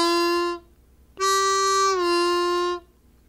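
Two forceful, sustained blues harmonica notes blare close and clear, a short one followed after a pause by a longer one that bends slightly downward.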